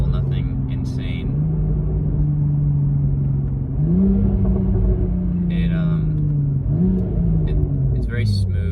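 Car running a JB4 tune accelerating and downshifting, its engine a close, steady rumble that climbs in pitch and drops back at several gear changes, with faint intermittent background noises.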